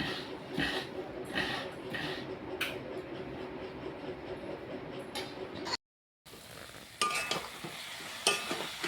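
Grated coconut, sugar and ground cardamom stirred in a pan, with rhythmic scraping strokes and a soft sizzle, close and moderately loud, briefly cut off before resuming.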